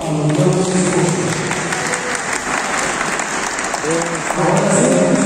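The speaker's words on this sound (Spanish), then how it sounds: "brindemos un fuerte aplauso a los nuevos esposos" Wedding guests in a church applaud the newlyweds, a steady, close burst of clapping from a crowd with a few voices rising over it.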